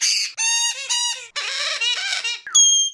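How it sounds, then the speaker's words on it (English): A Pionus parrot gives a series of loud, harsh squawks and screeches in quick bursts, close by, with brief pauses between them. "there isn't a parrot alive that doesn't make noise or is loud in some way"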